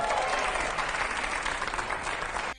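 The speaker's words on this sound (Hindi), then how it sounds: "जोरदार तालियां" Loud, sustained applause from an audience fills the whole stretch, a dense steady wash of clapping that holds level and then cuts off abruptly at the end.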